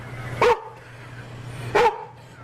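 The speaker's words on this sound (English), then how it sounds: "He's brought his dog to the set." A dog brought onto a film set barks twice, two sharp, loud, close barks about a second and a half apart over a low steady hum.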